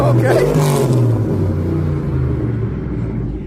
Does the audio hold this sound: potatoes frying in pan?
no